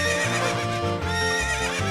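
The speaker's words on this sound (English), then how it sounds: "You can ride any of these horses, but Epona's the one that's easiest to ride." Horse Epona's neighing and whinnying from The Legend of Zelda: Ocarina of Time, a loud, sustained cry with clip-clop hooves over a continuous layer of game music.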